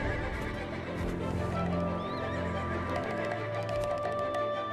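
Horses in the fantasy role-playing game Black Desert neigh and whinny repeatedly over a dense, steady ambient backdrop with faint hoof clip-clops, near Velia by grassland where wolves lurk.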